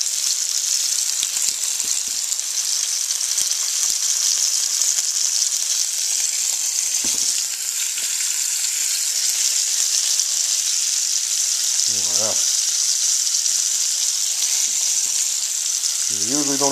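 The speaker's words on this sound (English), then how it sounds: "You can see they'll start to fry up." Cod tongues frying in a pan, Newfoundland style, make a loud constant sizzle and hiss close to the mic. Faint scraping sounds come through now and then, and no one speaks.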